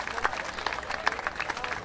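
Faint, thin crowd applause plays from a golf simulator game at Portrush, a soft continuous patter of claps with a few sharper accents.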